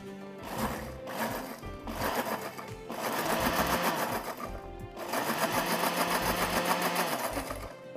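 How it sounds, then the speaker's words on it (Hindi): A kitchen blender whirs steadily for several seconds while making a cheese appetizer, pausing briefly twice before running on again; loud, close and continuous, with no talking over it. "ब्लेंड कर देंगे।"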